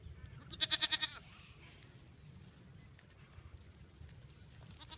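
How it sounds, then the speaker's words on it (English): A grumpy goat named Jeffrey bleats once in a short, loud, quavering burst in a farm play area, followed by quiet rustling and faint movement sounds. "Jeffrey's the grumpy goat."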